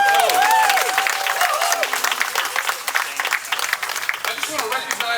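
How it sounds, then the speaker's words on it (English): An audience at a National Night Out preview event gives block clubs a big round of applause, loud dense clapping that starts strong and tapers slightly, with some voices and whoops mixed in. "Let's give our block clubs a great big round of applause."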